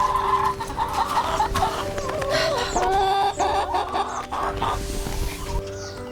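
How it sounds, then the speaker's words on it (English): Hens cluck and murmur close by inside a chicken coop at a rural recovery house on Prince Edward Island, a busy flock chattering continuously with occasional louder calls. "They take care of the chickens, they clean the chicken coop."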